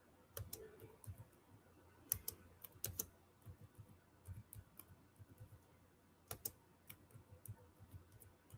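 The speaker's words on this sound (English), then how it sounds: "I'm typing" Quiet computer keyboard typing: irregular clicks and clacks of keys in uneven bursts with short pauses, close by and faint, with no talking.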